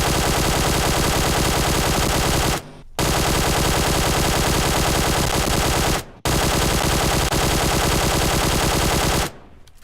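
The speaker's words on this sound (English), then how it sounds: "I'm just going to fire a full auto magazine" A QBZ assault rifle in PUBG Mobile fires full-auto, three long unbroken bursts of dense rapid gunfire, loud and close, separated by brief silent gaps.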